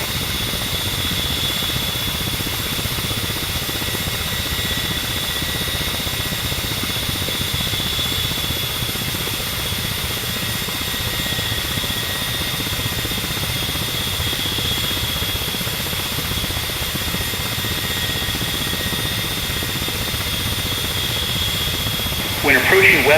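A Ka-50 attack helicopter in the DCS flight simulator drones steadily with a high turbine whine. The engine stays loud and constant from start to finish, and a sharper burst of noise comes right at the end.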